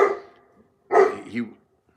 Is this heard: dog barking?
yes